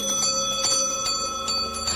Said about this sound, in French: Mais bientôt elle sonna à double carillon, et toutes les autres sonnettes de la maison se mirent de la partie.